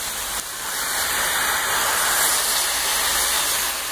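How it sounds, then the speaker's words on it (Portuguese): Water poured into a pan of pumpkin and sugar cooking for a sweet, giving a loud, steady sizzling hiss that swells after a brief start and holds evenly throughout, with no voices. "Agora eu vou adicionar a água"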